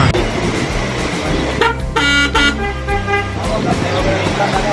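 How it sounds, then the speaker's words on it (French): Car horns toot repeatedly amid busy road traffic in India, with a person talking over the din. "Bah voilà, les klaxons, ils sont là."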